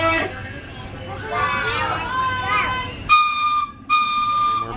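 Voices chatter before two loud, sustained steam locomotive whistle blasts sound close by at Knott's Berry Farm, separated by a brief gap.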